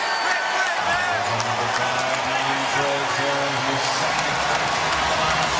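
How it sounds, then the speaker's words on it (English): A basketball arena crowd roars and cheers at an NBA game after a record-setting three-pointer, a steady broad wash of cheering with whoops rising and falling, while commentators talk over it. "The crowd loves it."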